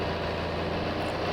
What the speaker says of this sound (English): See the cool tractor.